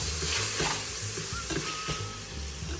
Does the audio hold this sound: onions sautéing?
yes